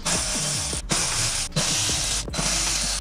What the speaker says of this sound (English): The next step is to remove these 8 millimeter screws from the bumper.